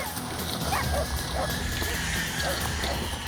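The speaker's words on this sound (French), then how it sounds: "À peine lâchés, les chiens ont reniflé une piste." Hunting dogs in a rocky Polynesian forest give several short, scattered barks and yips while tracking a wild pig, moderately distant under a busy outdoor background with a faint voice.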